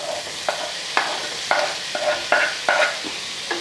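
Tomatoes go into a frying cabbage curry as a spoon scrapes and stirs in regular strokes about every half second over a soft continuous sizzle, close and clear, no voices.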